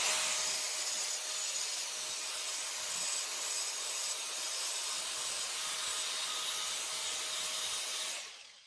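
Trimming a sixteenth of an inch off the end of a Volvo B20 head gasket produces a steady, close rasping scrape that runs continuously for about eight seconds before stopping abruptly.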